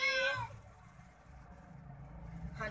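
A house cat meows for food indoors, one clear, fairly loud meow at the start and a shorter one at the end, with a low background rumble between them.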